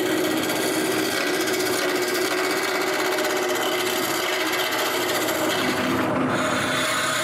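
Steady, continuous scraping and rasping of a tool turning a square wooden blank into a cylinder on a lathe, a sustained whirring hiss that holds level throughout with no voices.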